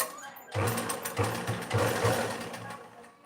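A sewing machine stitches sleeve fabric in one short, close burst with a rhythmic mechanical chatter, heard alone with no talking.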